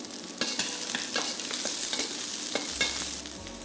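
Chopped onions crackle and sizzle in hot oil in a pan on medium heat, a dense, close, continuous frying hiss with scattered pops and a brief low thud near the end.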